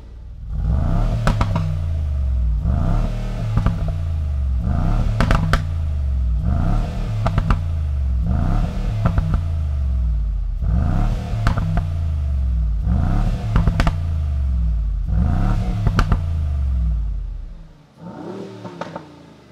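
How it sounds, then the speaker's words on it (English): The V8 engine of a Brabus G800 Mercedes-AMG G63 SUV in Sport Plus mode revs hard again and again, eight sharp roaring blips in a steady rhythm, close and loud, then settles back to idle. "Now let's give it some revs."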